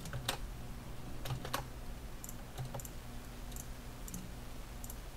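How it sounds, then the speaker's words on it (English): Clicky typing on a computer keyboard during math writing, heard close but quietly as short scattered bursts of keystrokes, with pauses between clusters over a low steady hum. "My keyboard is freaking out."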